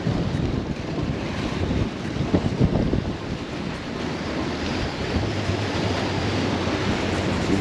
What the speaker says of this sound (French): pense pas que le vent va se calmer de sitôt.